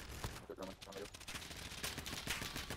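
Gunfire in Call of Duty Warzone: dense, continuous bursts of shooting for under three seconds, mixed with game noise and heard faintly at a low level.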